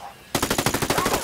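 Automatic weapon fire in Ghost Recon: Wildlands, a sudden close, loud burst of about a dozen rapid, evenly spaced shots after a brief quiet moment.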